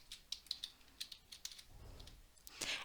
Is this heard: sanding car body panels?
no